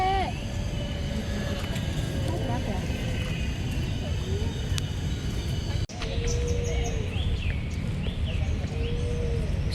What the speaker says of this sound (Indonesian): Suara burung, suara alam ya teman-teman